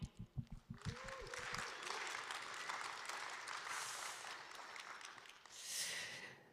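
Applause from an audience at a blockchain conference in Austin, starting with a few close heavy claps and swelling into a broad wash of clapping that rises again near the end, fairly faint overall.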